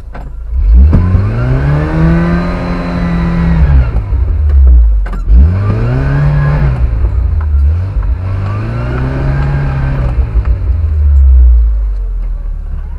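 A car engine revs repeatedly while driving along a road blocked by a fallen log, its pitch rising and falling in several loud surges that dominate the whole stretch with a steady low rumble underneath.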